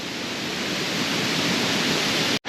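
A roaring waterfall at Little Devils Stairs in Shenandoah pours in a loud, dense, unbroken rush close by. The sound cuts out abruptly near the end.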